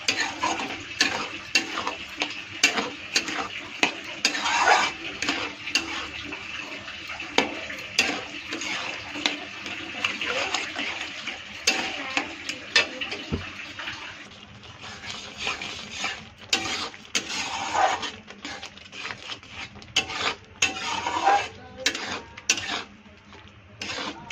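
Tomato chutney with sugar and jaggery is stirred in a pan with a spoon, giving a steady run of scraping and clinking strokes that continues throughout, with a soft sizzle underneath.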